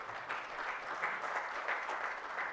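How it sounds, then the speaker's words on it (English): Sustained audience applause for a product presentation at a steel, mining and logistics business conference, a steady dense wash of clapping throughout without voices. "I think that we require a larger applause for Ranjan"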